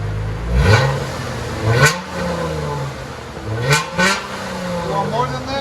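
A 2015 Dodge Challenger V6 with dual exhaust and muffler delete revs loudly up close, two pairs of sharp throttle blips rising and falling, with a voice speaking briefly between them.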